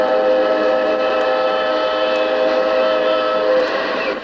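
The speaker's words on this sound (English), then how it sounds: "I used to come down and see Santa on the train" The Santa Claus excursion train runs along tracks through gorges and over bridges, a loud, steady rumble of railcars throughout, with a sustained horn tone layered over the rolling noise and a few faint clanks.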